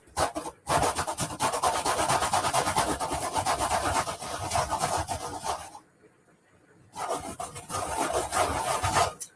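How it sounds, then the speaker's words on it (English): A whole lemon being zested, long loud rasping strokes against a grater that repeat steadily, break off briefly, then resume. "So we want to zest the whole lemon."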